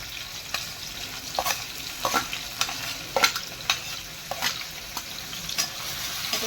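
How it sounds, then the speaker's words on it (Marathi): Garlic, onion and chili sauté with mustard seeds in a hot pan, a steady close sizzle broken by repeated sharp scrapes and clinks of stirring. "आता चांगलं परतून घेऊ ते."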